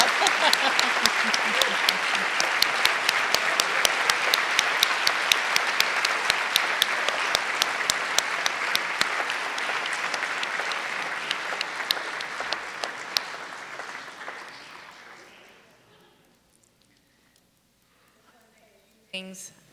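Loud, sustained crowd applause at a live finale event as third-place winners are announced, with steady dense clapping and cheering voices that slowly taper off, then near silence with a brief sound at the very end.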